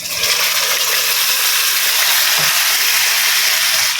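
Chicken meat dropped into hot spiced oil sizzles and hisses steadily and loudly throughout, with a few faint stirring knocks and no talking.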